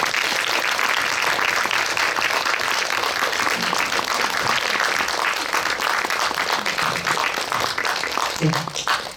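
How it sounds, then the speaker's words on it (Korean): Sustained, dense audience applause fills a cinema auditorium at a special guest-visit film screening at Lotte Cinema World Tower, steady and loud throughout without letting up. "뜨거운 박수 부탁드리겠습니다"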